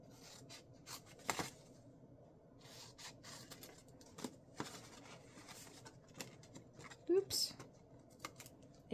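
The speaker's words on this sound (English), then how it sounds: "So cut on your score line." Scissors snipping paper along a score line while making a Christmas gift bag, several quiet, irregular cuts and rustles with a voice talking softly at times.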